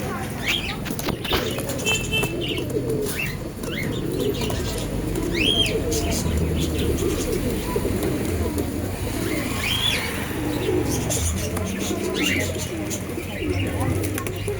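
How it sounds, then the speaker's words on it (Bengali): Many pigeons coo in a constant low chorus nearby. Scattered chirps and bursts of flapping wings cut through it, and faint voices sound in the background. "এই পায়রাটাকে দেখুন, দুর্দান্ত কোয়ালিটি হয় পায়রার"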